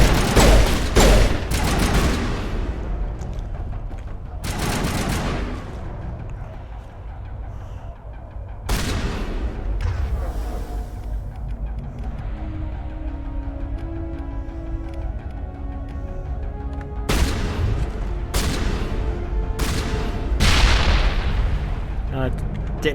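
Explosions and gunfire in the Mass Effect video game, with several loud, booming blasts and rattling bursts going off across a sustained noisy battle, a voice speaking beneath the din.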